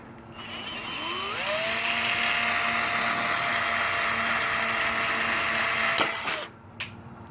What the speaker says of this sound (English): I'm just gonna drill it here.